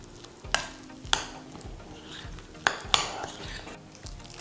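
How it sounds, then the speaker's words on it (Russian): Close-up stirring of a thick breakfast batter with baking powder in a bowl, with a wet slapping swish and a few sharp clinks of a utensil against the side. "И снова хорошенечко перемешиваем."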